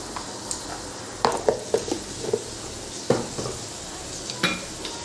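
Paneer sautéing in a pan with salt, turmeric and red chili, a steady soft sizzle broken by repeated sharp scrapes and clinks of a spatula stirring against the metal, close and moderately loud, with no talking.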